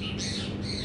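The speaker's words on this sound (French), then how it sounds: "T'as vu, c'est des oiseaux." Birds squawking and chirping around a small terrace full of plants, a brief burst of high calls at moderate distance with no talk.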